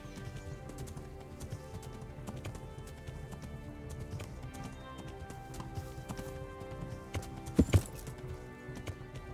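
Horse hooves clip-clopping at a steady trot in the medieval video game Kingdom Come: Deliverance, a soft rhythmic patter over quiet ambient game music, with a brief louder thump near the end.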